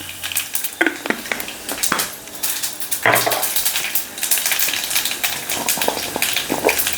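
Dry red chilies and mustard seeds frying in hot oil while mango rasam is prepared, a busy crackling sizzle with sharp popping seeds and scattered clinks of a pan, close and fairly loud.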